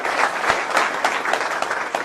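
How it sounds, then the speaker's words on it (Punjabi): Crowd applause at a gathering by a riverbank, a short dense burst of many hands clapping at moderate distance, even and sustained with no voices on top. "ਇੱਕ ਵਾਰ ਜ਼ੋਰਦਾਰ ਤਾੜੀਆਂ ਨਾਲ ਦਾ ਧੰਨਵਾਦ"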